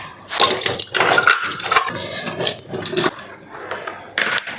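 Water running from a tap as hands and items are washed after a home pooja, a close, steady splashing stream with brief pauses and changes in flow.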